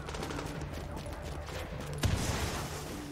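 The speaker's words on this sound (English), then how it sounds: "somebody shooting crap at my back" Enemy NPCs fire on the player in Tom Clancy's The Division, a continuous rattle of gunfire from behind, steady and fairly loud with one sharper crack partway through.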